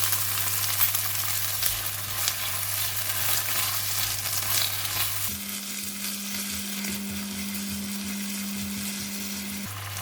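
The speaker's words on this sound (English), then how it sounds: "But for this one, we just need to stir fry with chili" Vegetables and kailan stir-frying with chili in a hot wok, a steady, loud sizzle with scraping stirs throughout and a constant low background hum, no speech.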